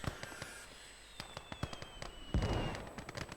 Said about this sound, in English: But the mortars are trying to slow the Russians down, bombarding their advance.